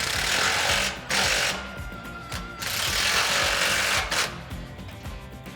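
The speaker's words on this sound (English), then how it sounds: "So to tighten them up, we're going to use that same 21mm socket." A power impact tool drives a 21mm socket to tighten the bolts on a Westin WJ2 rear bumper for a Jeep Wrangler JL, whirring and rattling in several close bursts with brief pauses between them.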